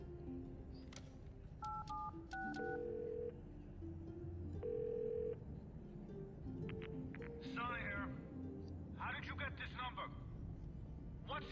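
A phone dials with short electronic tone beeps and tone sequences during a collectible phone call in the video game The Darkness, followed by faint chirps and a quiet voice on the line.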